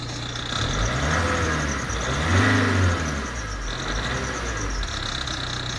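A Ford Transit Connect van engine idles, then revs up and drops back in a single swell of rising and falling pitch, close and clear with no talking.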